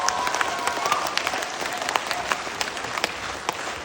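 An audience in Osh bursts into steady, dense applause, many hands clapping together at close range with no voices on top, sustained for a few seconds.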